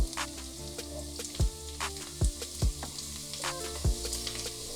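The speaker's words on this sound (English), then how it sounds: "Now fry these onions till it turns slight brown." Chopped onion frying in a pan for an egg curry, a steady close sizzle with a few louder pops and stirring knocks spaced through it, no talking.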